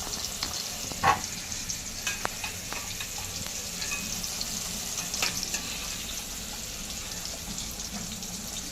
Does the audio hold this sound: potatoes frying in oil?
yes